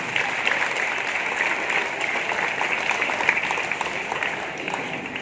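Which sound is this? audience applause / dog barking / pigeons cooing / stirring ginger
audience applause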